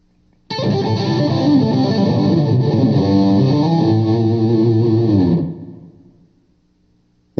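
A distorted electric guitar lick, played with a pull-off and a slide up the neck. A loud, sustained run of notes carries through effects for about five seconds, then rings out and fades to silence.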